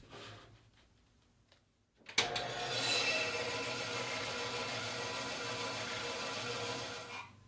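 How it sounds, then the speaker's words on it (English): Corner notches are cut into wooden pieces for a round wall shelf. After a quiet start with faint handling noises, a loud, steady cutting rasp begins abruptly and runs for about five seconds before stopping. "I'm going to cut these notches on the corners that will support the outside of the rings."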